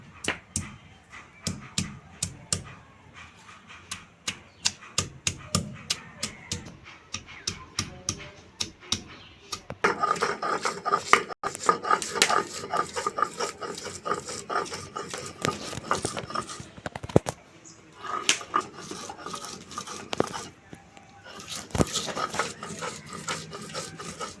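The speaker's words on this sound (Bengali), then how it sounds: "এখানে একটা মাঝারি সাইজের পেঁয়াজ নিয়েছি কেটে, আর নিয়েছি একটা মাঝারি সাইজের টমেটো, আর 3 টুকরো আদা। তো এটা আমি বেটে নেব।" Chopped medium onion, medium tomato and three pieces of ginger are ground into a paste with repeated rhythmic rasping, scraping strokes. The strokes come steadily, then grow denser and busier midway, close and fairly loud.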